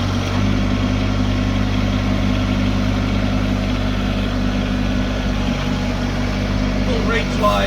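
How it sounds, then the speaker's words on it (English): A 1905 Branson tractor runs steadily with its backhoe attachment, a loud, even diesel drone held close throughout, with a voice briefly heard near the end. "You get a much smoother operation of the backhoe."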